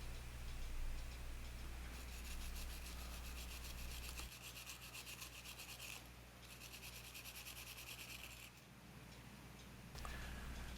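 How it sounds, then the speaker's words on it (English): A brass bristle brush scrubs a Hot Wheels Redline Mustang Stocker die-cast car, making a faint, steady rubbing and scratching with brief pauses between strokes. "I'm going to go ahead and use a brass bristle brush, and I'm just going to kind of give it an initial shine by brushing it down with this brush."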